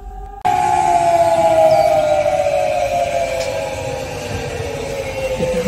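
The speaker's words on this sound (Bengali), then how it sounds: "এটা হচ্ছে সাইরেনের শব্দ।" A civil defense siren in Germany wailing outside an opened window, a loud sustained tone that starts abruptly and slowly falls in pitch, droning steadily over distant background noise.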